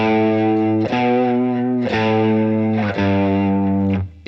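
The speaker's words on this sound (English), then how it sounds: "It sounds like a guitar with just a little bit of coloured overdrive on" An electric guitar with light overdrive rings out four sustained chords in a slow, even rhythm, each one strummed and left to ring, warm and slightly gritty, played alone and up close.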